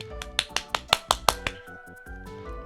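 Clapping imitated with the mouth: a voice produces a quick series of about eight sharp, snappy pops in an uneven rhythm, close and clear, followed by a soft, low, sustained tone.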